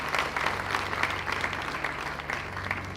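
Audience applause at a university inaugural lecture, honouring the Vice Chancellor: steady, dense clapping from a large crowd that fills the room evenly for the full length without pause.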